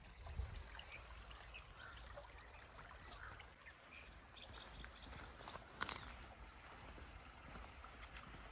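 Creek water flowing along a canyon trail near Lake Poway, a faint, steady trickling wash with a few soft splashes and knocks, heard from a short distance.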